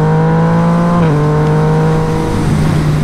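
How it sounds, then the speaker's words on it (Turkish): Yamaha MT-09 motorcycle fitted with an SC exhaust, a loud close engine drone holding a steady pitch, then dipping briefly before settling again, heard alone without talk. "Bir de şu anda SC egzoz var arkadaşlar."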